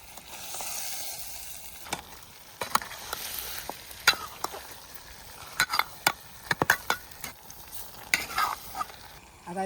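Quail mutton fries with onions in a pot over a village wood-fired stove, giving a constant sizzle broken by sharp scraping clicks and knocks of a stirring spoon.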